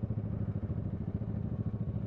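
A motorbike engine running steadily nearby with an even, low throbbing pulse, with no talk over it.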